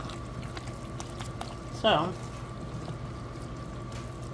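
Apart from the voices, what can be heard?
water pouring into a pot of lentil and farro soup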